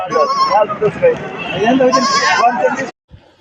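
Goats and sheep bleating loudly and almost continuously at a livestock market in Shirur taluka, Pune district, where small young kids are for sale, with a busy crowd murmuring underneath until it cuts off near the end.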